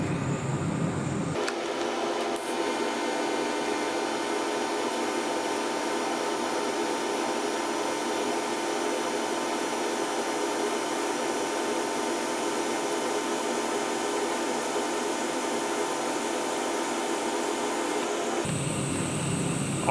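A TIG welding torch runs a steady pass on metal, giving a continuous even buzzing hiss that starts abruptly and stops near the end, with no talking.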